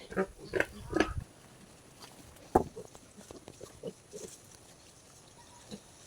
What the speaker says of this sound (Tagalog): Bigyan natin sa ating mga baby pig.